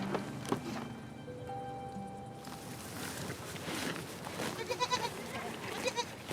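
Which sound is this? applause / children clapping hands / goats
goats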